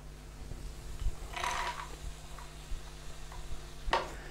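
Vegetables go into a pan for curry puff filling and sizzle softly as they are stirred, with a few scraping bursts and light ticks over a steady low frying hiss.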